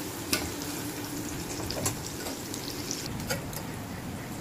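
Onion frying in oil until reddish, a soft continuous sizzle with occasional light scrapes of stirring, fairly quiet and steady.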